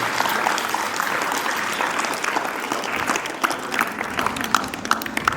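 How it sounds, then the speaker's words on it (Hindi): An audience at a hostel birthday celebration applauds hard and steadily, a dense wash of clapping with sharper individual claps near the end. "आइए हम धन्यवाद स्वरूप एक बार जोरदार ताली बजा दें"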